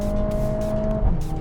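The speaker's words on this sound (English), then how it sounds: "The car roaring!" A steady car engine drones loudly with a sustained tonal hum, shifting slightly in pitch near the end amid road noise.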